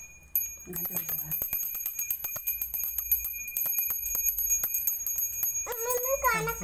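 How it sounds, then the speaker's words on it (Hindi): A small metal bell rings over and over with a bright, steady clang during a home puja, close and fairly loud, while people speak in between. "जल्दी भाई घंटी बजाओ"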